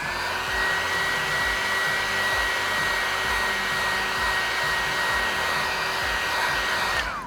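A heat gun blows steadily at close range while warming vinyl wrap film on a Cybertruck, a constant loud whooshing hum with a fixed high whine, running alone and unbroken until it switches off at the end.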